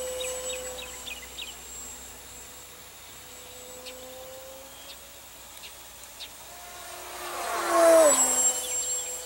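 A foamboard racer model plane's electric motor at half throttle gives a faint, thin whine that sweeps in pitch as it passes, swelling louder near the end before fading off.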